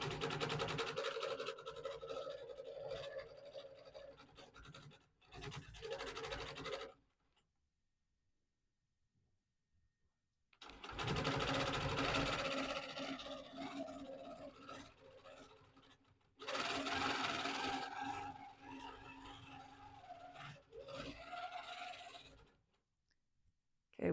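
A longarm quilting machine sews wiggle stitches across a T-shirt quilt. It gives a faint steady mechanical hum in several long runs, with near-silent pauses between them.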